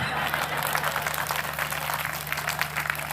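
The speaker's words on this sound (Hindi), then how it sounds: "सारे लोग ताली बजाओ वरना डांस करके दिखाओ।" Audience applause at a Hindi comedy poetry show (kavi sammelan), a dense, steady wash of clapping that holds loud and even for a few seconds over a low constant hum.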